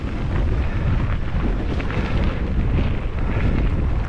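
Cold wind blowing outdoors beside a lake with rock fill along a railway line, a loud continuous roar buffeting the microphone with no voices.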